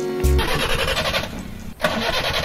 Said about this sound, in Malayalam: എഞ്ചിൻ നടക്കുന്നുണ്ടോ എന്ന് ചെവിയോർത്ത് നോക്കിയാലേ അറിയാൻ പറ്റത്തുള്ളൂ.